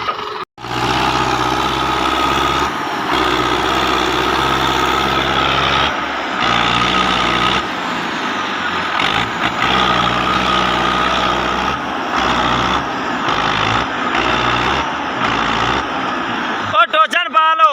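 A tractor engine labours hard while pulling a trolley loaded with soil, a loud, sustained drone that briefly drops out a few times, with voices talking over it.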